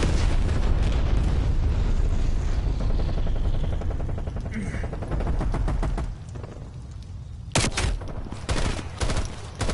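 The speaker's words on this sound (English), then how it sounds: "Enemy napalm strike incoming." Napalm strike explosions in a first-person shooter rumble as a dense, loud, continuous roar for several seconds, then give way to a few sharper separate bangs, with a voice faintly underneath.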